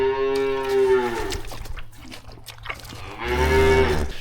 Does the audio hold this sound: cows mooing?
yes